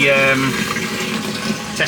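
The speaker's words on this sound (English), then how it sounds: "So this is how we're going to fill our tank." Water runs from a tap or hose into a camper van's fresh-water tank during a water-system fit-out, a steady close rushing fill sound with a brief tonal hum at the start and a slight rise near the end.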